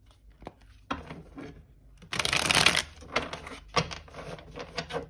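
A tarot deck is riffled and shuffled nearby, with soft taps and handling before and after a loud burst of shuffling.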